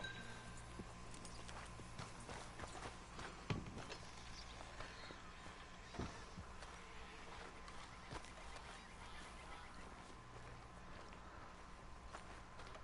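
Horse hooves clip-clop steadily at a walking pace in Red Dead Redemption 2, moderately close over a constant ambient bed of outdoor game sound, with a few sharper hoof strikes standing out.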